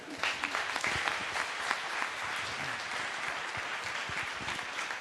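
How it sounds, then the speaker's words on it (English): An audience at a city conference applauds in a steady, dense wash of clapping that holds fairly evenly for several seconds, heard from within the room. "Big round of applause to Agne."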